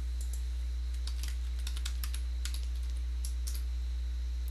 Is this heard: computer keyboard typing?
yes